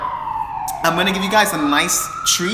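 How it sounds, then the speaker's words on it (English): An ambulance siren wails outside, its rising and falling tone sweeping clearly through the room while someone talks over it. "Sorry for the noise. There's like ambulance outside"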